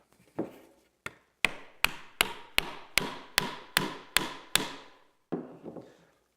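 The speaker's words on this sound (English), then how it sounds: "when I peg them together, the whole joint will tighten up" A wooden peg is hammered into a timber scarf joint in fifteenth-century building style, with about ten sharp, evenly spaced knocks in a row and one final blow, close and loud with no voices.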